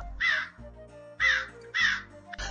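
A crow caws three times, loud and close, and a fourth caw begins at the end. Soft music plays underneath.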